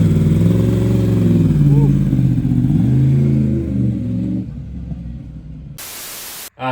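A motorcycle, a wrecked 2023 Yamaha R1 being rebuilt, rumbles with a steady low engine tone for several seconds, then fades as it rides away, leaving quieter background noise and a brief burst of static at the end.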